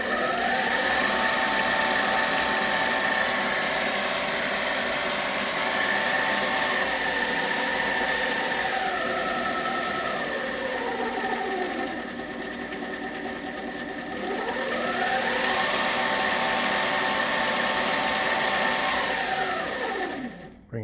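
Sieg X3 milling machine motor running under variable speed control, a loud steady whine with tones that sweep down and back up as the speed is changed, continuous throughout before winding down at the very end.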